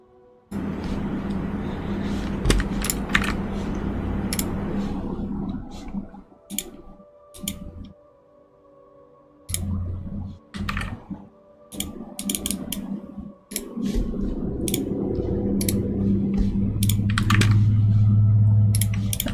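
Computer keyboard keys and mouse buttons click in irregular bursts and scattered taps, close and fairly clear, with brief pauses and a low background hum throughout.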